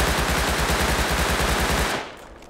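Rapid automatic fire from a Thompson SMG in the video game Rust, a steady burst of evenly spaced loud shots lasting about two seconds before cutting off to a fading tail, with no talk.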